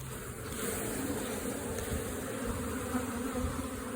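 Honeybees drone in a dense, continuous buzz around a hive frame holding honey and brood, close and steady for several seconds with no voices.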